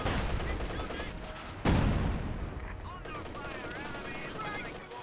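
MG34 machine gun fire in a World War II strategy video game, with a sharp burst followed by rattling automatic fire and battlefield noise, moderately loud with a commentator talking over it.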